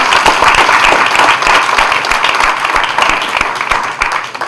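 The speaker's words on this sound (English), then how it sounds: "give her a round of applause." Loud round of applause from an audience at a National Action Network event, dense steady clapping lasting throughout and tapering slightly at the end.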